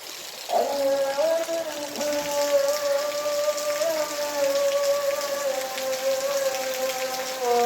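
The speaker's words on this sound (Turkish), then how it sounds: "gece başlayan yağmur süper bir yağmur yağıyor" Steady heavy rain pouring down at night in Kabakini village, Turkey, a dense continuous patter with a faint tonal hum running underneath throughout.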